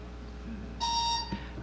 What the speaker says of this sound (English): I was beginning to think the buzzers didn't work